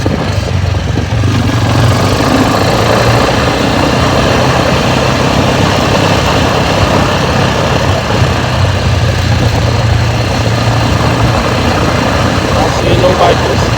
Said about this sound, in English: I see a lot of cars right now and scooters.